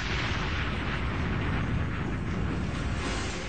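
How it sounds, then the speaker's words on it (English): A detonation of one million pounds of TNT, staged in 1965 to simulate an atomic bomb blast near Navy ships anchored offshore, comes through as a sustained, dense roar of rumbling noise with no distinct onset. "1 million pounds of TNT are detonated to simulate the blast of an atomic bomb"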